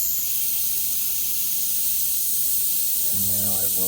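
A spray gun hisses steadily and close while spraying paint onto a Mustang hood, a continuous broad airy spray running throughout with no break.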